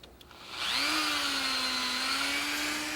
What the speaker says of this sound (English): we need to get a wire wheel on a Dremel tool